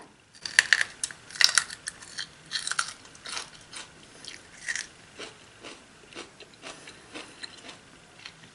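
Crisp, sharp crunches from biting into a home-canned sour green plum, a few loud bites followed by steadier close-up chewing, with no talk.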